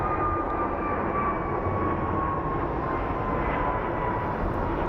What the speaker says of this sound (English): So we have a Dreamliner.